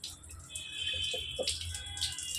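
Water runs steadily from a pipe while goat intestines are cleaned, a soft continuous rush with faint splashing and a low background hum.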